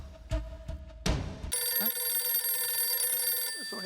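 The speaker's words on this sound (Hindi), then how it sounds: "तेरा फोन बज रहा है" A telephone rings in a household setting, a sharp electronic ring tone that sets in after a few thumps and knocks and then sustains loudly to the end.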